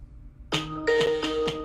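A phone rings with a repeating electronic ringtone, its tonal bursts recurring about every quarter second, loud and close, with no talk over it.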